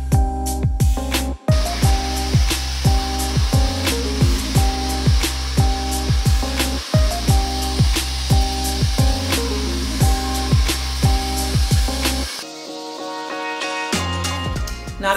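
A hair dryer blowing steadily at close range, broken up by repeated rhythmic pulses as it is moved through the hair, cutting out briefly near the end before starting again.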